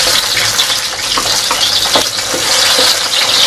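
Onion sizzling and frying in hot oil in a pan while cooking beef caldereta, a steady loud crackling hiss with faint stirring clinks.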